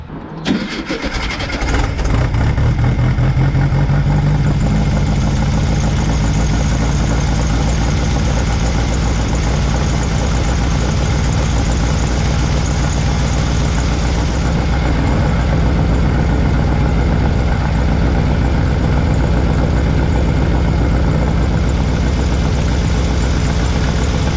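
A classic VW Beetle engine cranks and catches, then settles into a steady, loud, rumbling idle that runs on without a break.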